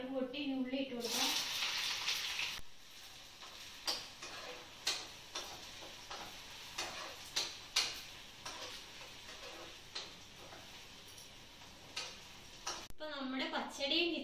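Chopped onion dropped into coconut oil with popped mustard seeds gives a broad, hissing sizzle at the start and again at the end. Between them come scattered sharp popping ticks, and a person talks over parts of it.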